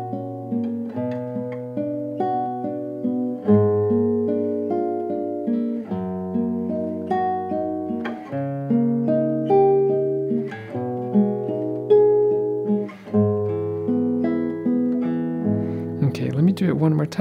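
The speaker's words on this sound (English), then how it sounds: "just guitar 2 sounds like this." Guitar 2 plays the accompaniment chords of a guitar duet piece from The Deer Hunter as solo guitar: arpeggiated plucked chords in a flowing, even rhythm, close and clear with no voices.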